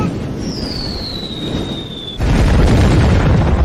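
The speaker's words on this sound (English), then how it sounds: "Grenades!" A grenade explosion in a battle scene arrives as a sudden heavy rumbling blast that swells into a sustained roar, following a descending whistle-like whine.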